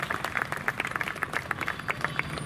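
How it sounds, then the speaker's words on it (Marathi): An audience at a community gathering breaks into applause honouring an elderly speaker, a steady patter of many hands clapping at moderate loudness, with no voices over it. "तर जोरदार टाळ्या वाजल्या सरांसाठी."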